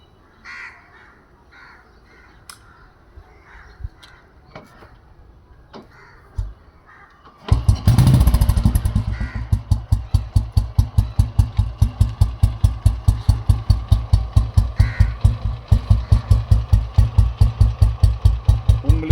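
Restored single-cylinder motorcycle kicked to life after quiet moments with crows cawing, then settling into a loud, steady, rhythmic thumping idle close by.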